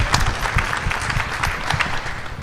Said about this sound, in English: Let's have a round of applause for the girls.